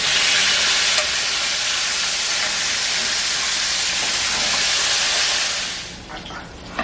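Pork chops fry in a pan with a loud, steady sizzle and hiss that fills most of the stretch, then drops off sharply near the end as the chops are flipped, with a few clatters.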